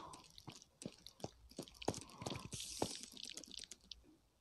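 Water in the Minecraft video game, heard as a sequence of distinct dripping and trickling plinks at an irregular pace, moderately quiet and close, with a brief splashy wash in the middle.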